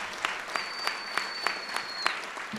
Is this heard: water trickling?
no